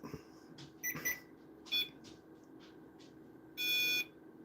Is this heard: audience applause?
no